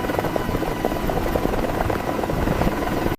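A helicopter holds a steady hover during a heavy-lift recovery of a B-24 Liberator section from the ocean, its rotor and engine producing a loud, continuous broadband roar with rapid blade chop throughout.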